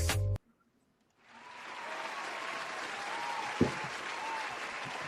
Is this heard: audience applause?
yes